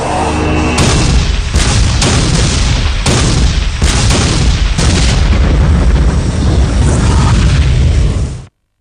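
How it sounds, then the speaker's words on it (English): Civil War artillery barrage at Gettysburg, with hundreds of cannons firing in a continuous, loud, dense roar of overlapping booms and blasts that runs several seconds before cutting off abruptly. "The largest artillery barrage ever in North America is about to begin."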